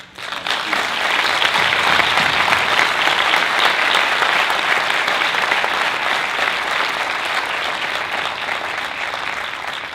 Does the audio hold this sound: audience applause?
yes